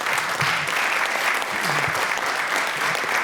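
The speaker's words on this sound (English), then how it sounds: "give him a round of applause, please." Steady, sustained applause from an audience at a college jazz band concert fills the whole stretch, dense clapping with a faint murmur of voices underneath.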